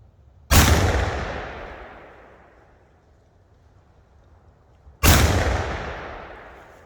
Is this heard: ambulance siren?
no